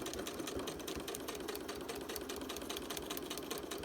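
A sewing machine stitching a paper-pieced flower, a steady fast mechanical whirr with rapid needle ticking, running continuously and close by.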